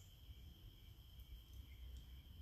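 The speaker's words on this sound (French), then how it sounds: "Tu entends les criquets, les grillons chanter." Crickets chirp as a faint, steady, high-pitched trill that runs unbroken throughout, distant and alone with no voices.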